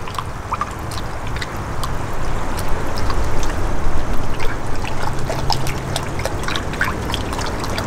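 Cold water pours and trickles steadily for several seconds, a close, continuous splashing stream with no voices.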